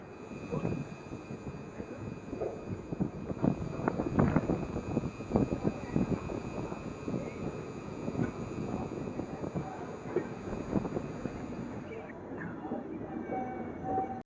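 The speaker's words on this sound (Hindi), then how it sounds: "ऊँझा से हो चुकी है भाई साहब डिपार्चर, पूरी सुपरफास्ट एक्सप्रेस ऑन टाइम पे" Puri Ajmer Superfast Express pulling out of Unjha station and running, a steady broadband rumble of wheels and carriages with rhythmic clatter, heard from on board, with voices and wind noise throughout.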